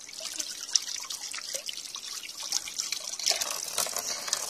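Tap water runs and splashes while tripe is rinsed clean in a basin, a steady close trickle with irregular drips and wet sloshing.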